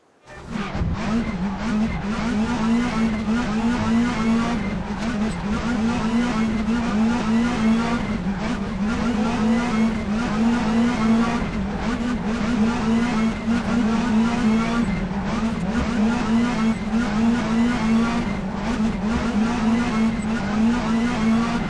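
Race cars in the RaceRoom (R3E) sim racing game on a short track, a steady close engine drone with rising and falling revs, tire squeal and occasional scraping bursts running continuously for about twenty seconds, no voices.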